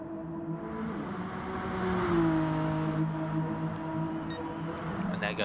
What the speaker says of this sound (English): That car looks and sounds damaged.